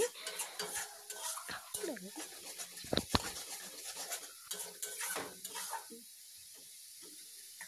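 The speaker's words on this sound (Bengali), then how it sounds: "আমি সমস্ত মশলাটাকে ভালোভাবে কষিয়ে নিচ্ছি।" Spice masala with boiled-down tomato is sautéed in a pan for a village-style chicken dish, with a soft sizzle, repeated scraping stirs of a spoon against the metal, and a couple of sharp clinks, all close and fairly quiet.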